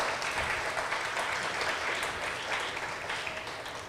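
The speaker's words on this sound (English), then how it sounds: "Round of applause for them as well" Steady, dense applause from an audience at a university Lavender Graduation ceremony, continuous and fairly loud throughout without any talking over it.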